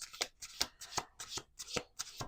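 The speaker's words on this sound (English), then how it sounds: "Let's do 2 more shuffles." Deck of playing cards being shuffled by hand, about six quick riffling bursts in a steady rhythm, close and crisp with no talk.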